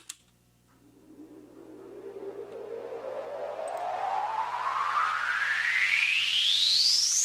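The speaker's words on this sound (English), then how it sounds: "a noise sweep" A noise sweep from a house track: a hiss of filtered noise rising steadily in pitch and growing louder over several seconds, with a faint low hum beneath and no voices.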